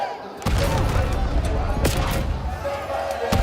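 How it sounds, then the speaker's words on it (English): Rapid, sustained gunfire from Call of Duty: Black Ops 7 esports match play on the Dojo map, loud, dense bursts with an excited commentator talking over the shooting. "Now it's just raw gunfights over the top of Dojo."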